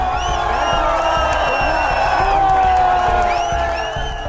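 A large protest crowd packed near Jantar Mantar, a loud, steady wash of many voices shouting and chanting close by, with car horns sounding repeatedly over it.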